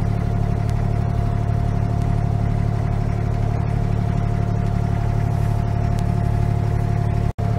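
An abra boat's engine idles steadily at a Dubai jetty, a constant close-up motor hum with a low rumble that holds even throughout and cuts out for a split second near the end.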